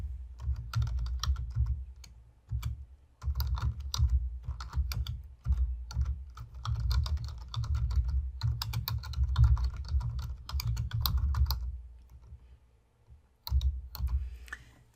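Steady typing of a running head in Word 2016 on a computer keyboard, rapid clicking keystrokes close by with a few brief pauses, no voices.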